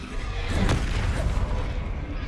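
Bombarda explosion spell from Hogwarts Legacy going off as a loud, rumbling boom with a sharp burst at the start, over dense, continuous battle noise.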